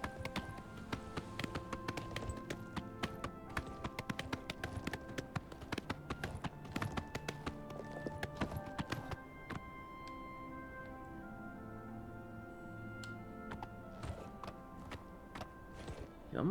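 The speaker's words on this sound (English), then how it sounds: "I hate turning the horse around." Horse hooves clip-clop at a steady walking pace while riding in the video game Oblivion Remastered, with irregular taps and shuffles as the mount turns and backs up, moderately close and continuous with no talk.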